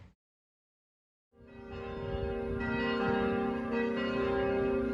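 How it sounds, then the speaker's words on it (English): Church bells ringing in the afternoon begin after a short silence, a rich sustained peal that holds steady and resonant through the rest of the clip. "we're hearing the church bells ringing"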